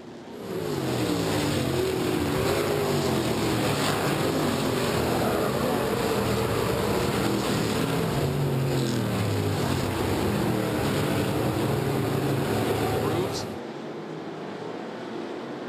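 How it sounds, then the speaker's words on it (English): Race cars roar around a dirt raceway at a mod street and sportsman feature, a loud continuous engine drone with rising and falling revs that cuts off sharply near the end. "Looks like we got one car pulling itself off of the raceway."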